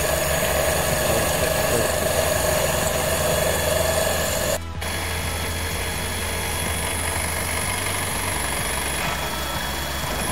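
Steady mechanical whir of a CNC machine drilling 6 mm holes in 40 mm material, with a constant motor drone and faint grinding, briefly dipping once before carrying on.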